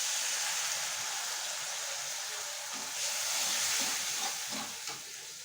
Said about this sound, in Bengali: একটুখানি জল দিয়ে আমি কষাবো